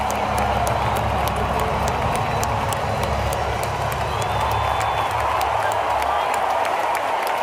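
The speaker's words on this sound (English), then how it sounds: "the crowd goes absolutely bananas for him." A huge Super Bowl stadium crowd roars steadily and loudly as Donald Trump appears on the screen, a dense wash of cheering without pauses.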